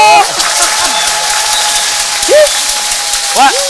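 A studio audience on a French-language midday TV show bursts into steady applause, a dense wash of clapping that carries through the whole stretch while a voice speaks over it.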